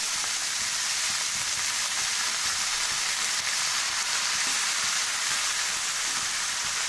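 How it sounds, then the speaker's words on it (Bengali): Radish greens frying in plenty of oil in a pan, a steady close hiss of sizzling that runs evenly throughout, quiet and unbroken. "বেশি করে তেল দিয়ে ভাজতে হবে। এখন আমি শাকটা ঢেলে দিলাম।"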